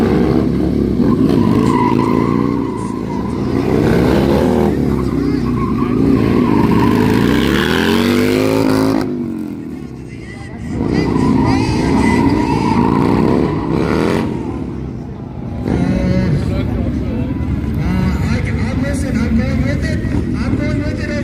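Old and new Harley Sportster motorcycles launching in a drag race, loud engines roaring and rising through gears with a brief dip midway, under a crowd and an announcer talking over them.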